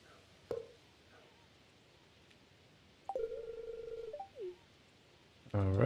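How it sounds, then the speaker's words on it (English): A phone call placed to Robin in the video game Stardew Valley: a single button blip, then a short steady electronic dial tone with a falling chirp, followed by a louder burst at the end, faint and alone. "We're going to go ahead and phone in an order to Robin"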